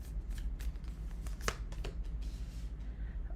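Tarot cards being shuffled by hand: a quiet, continuous run of soft riffling and flicking with a few sharper snaps, close by, over a low steady hum.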